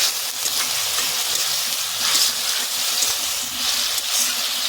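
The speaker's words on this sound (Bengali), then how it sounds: "একটু জল দিয়ে চাপা দেব।" Water poured into a cooking pan of sautéed river snail masala, a rushing, hissing splash with a couple of louder surges, close by and without talk.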